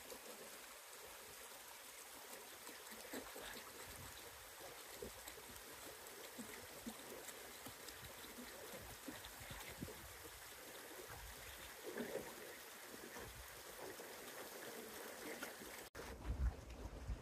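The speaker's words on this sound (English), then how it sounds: "you heard the water going down the Buffalo River" Water of the Buffalo River flows and trickles steadily throughout, a continuous outdoor stream wash at moderate level with a few brief louder splashes near the end and no talking.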